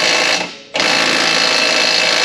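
Impact wrench running threads down on a bushing press fitting an aftermarket rear differential bushing to an Infiniti G37, a loud continuous buzzing rattle that briefly drops out, then resumes steadily.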